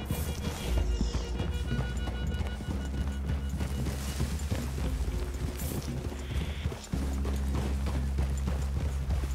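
Hooves clip-clopping as horses walk at a steady rhythm in the video game Red Dead Redemption 2, with a low ambient drone underneath and a brief dip near the end.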